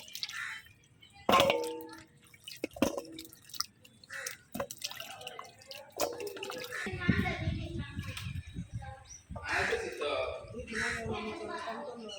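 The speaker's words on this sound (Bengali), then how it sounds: "এখন হলো গিয়ে এই লাউটা ধুয়ে নেব" Bottle gourd being washed in water by hand, with intermittent drips, splashes and squelches, close and fairly faint, under a person talking.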